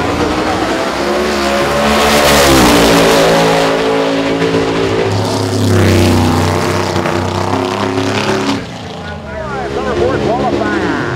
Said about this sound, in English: Clemens comes up, the Vortex blown 89 Mustang out of Central South Carolina on the strange side of the racetrack.